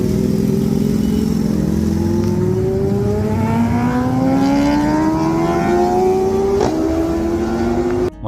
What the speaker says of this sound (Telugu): ఇటువైపు సూపర్ బైక్స్ ఎక్కువ రావడం మనోడు చూసేశాడు.